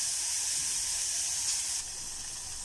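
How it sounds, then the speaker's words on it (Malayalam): Coriander and chili powders roast in a pan for a bitter gourd theeyal, making a steady, bright hiss and sizzle that drops slightly quieter toward the end. "അപ്പോൾ ഇത് നന്നായിട്ടൊന്ന് വറുത്തെടുക്കാം"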